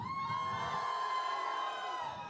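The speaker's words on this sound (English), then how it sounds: "I want you to scream as loud as you can" Conference audience screaming and cheering together, a loud sustained crowd roar of high-pitched shrieks and whoops that keeps going without a break.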